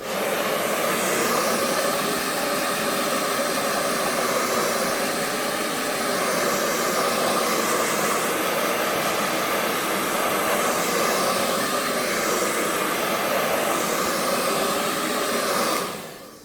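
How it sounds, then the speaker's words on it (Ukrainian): A household hair dryer runs steadily, blowing over a wet down jacket being dried; a loud, continuous airy whoosh holds evenly throughout and cuts off at the very end. "Підсушити краще звичайним побутовим феном."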